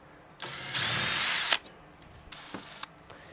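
A power drill backs screws out of an LG MSCN1590G microwave: one close, sustained whir of about a second, followed by a few short, quieter bursts.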